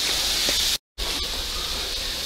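Steady, bright hissing sizzle of diced onions and peppers frying in hot olive oil, close up, briefly cut by a moment of silence before continuing.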